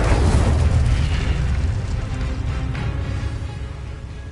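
A fire spell explodes in the video game Hogwarts Legacy: a loud, deep burst that rumbles and slowly fades over several seconds.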